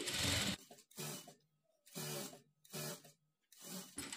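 Short bursts of a sewing machine stitching a blouse waistband with a small frill, four or five quick runs broken by brief silent gaps, close and moderately quiet.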